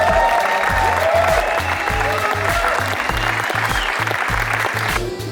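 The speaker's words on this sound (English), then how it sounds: "a big round of applause for all of the players" A crowd at a sports league finals in Berlin applauds the players, loud dense clapping holding steady for several seconds over a thumping music beat.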